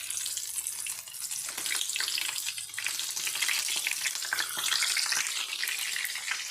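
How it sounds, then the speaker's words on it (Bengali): Stuffed snake gourd frying in hot oil in a pan, a steady bright sizzle and crackle that runs without a break at moderate loudness, with no one talking. "আমি দিয়ে দিয়েছি, ভাজতে দিয়েছি।"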